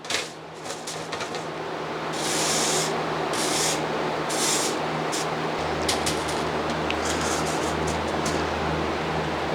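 Salt being stirred and turned over in a metal smoker pan for a Big Chief electric smoker gives a steady, close gritty rubbing and scraping, with brief sharper raking bursts along the way.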